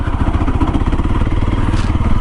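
A Honda CRF250L motorcycle engine runs close and loud with a rapid, even single-cylinder thumping pulse, steady throughout the short stretch and heard alone.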